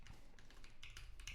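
Fast, steady typing on a computer keyboard during a live coding session, with close, crisp clicks in quick bursts and no voice.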